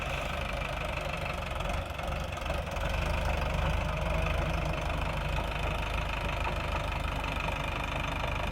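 A Sonalika tractor engine runs steadily while ploughing a field, a continuous knocking diesel drone at moderate distance with no pauses.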